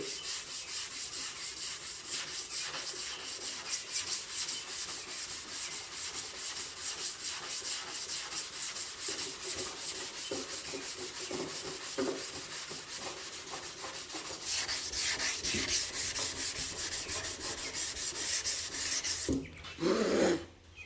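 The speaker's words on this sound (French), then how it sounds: "c'est jamais de sabler tout le temps dans le même sens. Fait que toujours sabler en X, changer de direction" Sanding by hand across a car hood panel for a Jetta Mk1 VR6, a steady rhythmic rasping scrub changing direction in an X pattern, growing louder and coarser toward the end.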